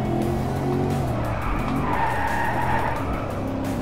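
A car in the Driveclub racing game skids and slides sideways, tires squealing loudly and continuously over a steady engine roar for the whole stretch.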